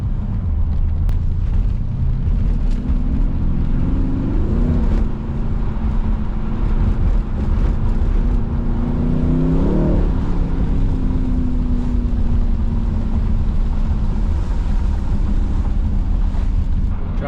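Mercedes-AMG twin-turbo V8 car cruising gently on a slippery wet road on a winter morning, a loud steady low engine drone and road rumble inside the cabin, with faint rising tones as the revs shift.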